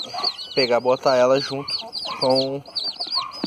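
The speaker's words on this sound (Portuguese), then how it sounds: "É a garnizé que tirou uns pintinhos gigantes" A bantam hen clucks and calls repeatedly at close range among her newly hatched chicks, whose high peeps chirp throughout, while a person speaks Portuguese briefly over the flock.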